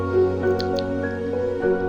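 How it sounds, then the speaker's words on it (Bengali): Hot water poured onto fried rice in a pot on a village clay stove, for chicken biryani, makes a close, loud liquid pour with dripping, squelching splashes. "তো এখানে আমি চাল ভাজা শেষে পরিমাণ মতো গরম পানি দিয়ে দিলাম।"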